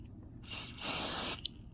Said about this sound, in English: So just one spray in the front, a little cover